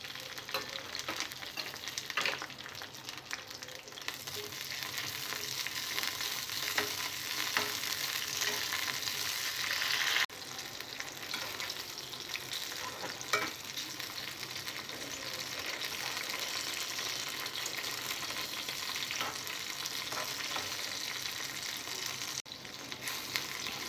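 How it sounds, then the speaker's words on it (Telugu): Green chillies fry in hot oil in a pan, making a steady, close sizzle and crackle that runs throughout with no speech. "ఆయిల్ వేడైన తర్వాత పచ్చిమిరపకాయలని ఫ్రై చేసుకోవాలి."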